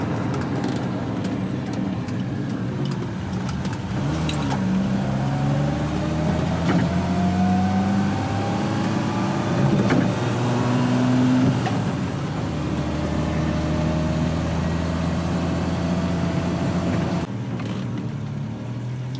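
A Volvo 164 engine drones steadily from inside the car, its pitch rising and shifting through gears as it cruises along the road at about 50 mph.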